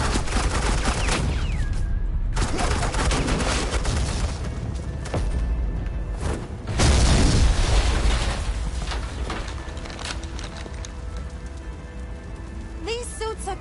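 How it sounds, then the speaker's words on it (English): Sustained gunfire from armed agents in Batman: The Telltale Series, The Enemy Within, rattles continuously with booming bursts and mechanical clatter, loud throughout, with a voice speaking over part of it. "Suppressing fire."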